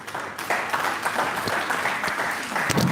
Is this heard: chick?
no